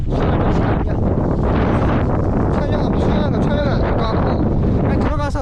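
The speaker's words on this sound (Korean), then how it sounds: "바람이 엄청 불어" Strong wind buffeting the microphone outdoors near the water, a loud, constant roaring rumble that never lets up, with people talking faintly underneath.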